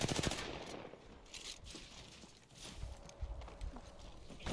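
Rapid gunfire from an Apex Legends match, bursts of shots through the clip at moderate distance, fairly quiet overall.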